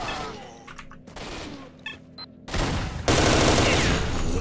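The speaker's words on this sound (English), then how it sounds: "Who's firing at who?" Bursts of gunfire in the video game S.T.A.L.K.E.R.: Shadow of Chernobyl, starting as scattered shots and rising into loud, sustained automatic fire that fills the last couple of seconds.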